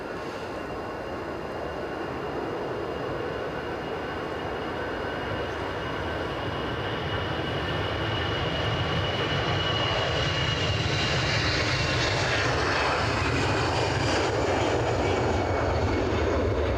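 An airliner departing Edinburgh airport for Belfast roars on its takeoff run, a broad engine rumble and whine that swells steadily louder over the whole stretch as the aircraft draws nearer.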